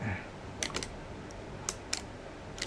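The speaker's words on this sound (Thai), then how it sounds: "กดชัตเตอร์ทิ้งไปนะครับ" The shutter of a Canon FT QL film camera is pressed with a few sharp mechanical clicks, close and crisp, spaced apart over a faint room hiss.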